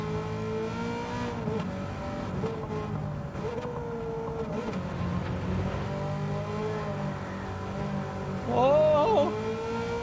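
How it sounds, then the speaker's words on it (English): A Gr.3 race car's engine in Gran Turismo 7 at Watkins Glen drones steadily and shifts pitch through gear changes. A sharper, louder rev flares up near the end. "They absolutely nailed the sound effects with this car."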